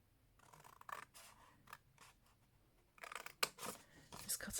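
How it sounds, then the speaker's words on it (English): Scissors snipping and scraping through decorated patterned paper while a handbag-style gift bag is made, a few close, quiet cuts in short bursts. "I'll just grab my scissors."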